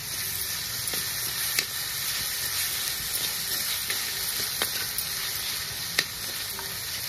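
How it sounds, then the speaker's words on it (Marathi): Tomatoes and onion sauté in a pan for a spinach paneer dish, giving a steady close sizzle and hiss with occasional sharp spatula taps against the pan. "टमाटर टाकून घेऊ आपण, यो पण परतू"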